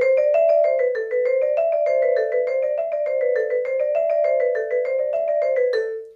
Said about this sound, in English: have the dampener come off the bar only enough for the bar to speak, for it to ring slightly